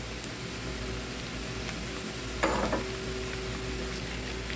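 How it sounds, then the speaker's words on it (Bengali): Ginger and garlic paste sizzles in hot oil in a frying pan, a constant soft hiss with a brief louder burst of stirring midway. "আদা রসুনটা একটু ভেজে নিব"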